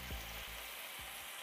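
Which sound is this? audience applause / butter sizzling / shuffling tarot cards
butter sizzling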